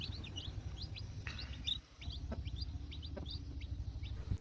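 Newly hatched chicks of a pure native desi hen peep in rapid, high, repeated chirps close by over a low background rumble. A sharp knock comes near the end.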